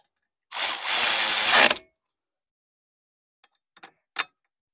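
Power tool tightening the front strut nuts on a 2007-2017 Toyota Camry during shock replacement, one loud close burst of about a second, then silence and a few faint short clicks and a brief final buzz.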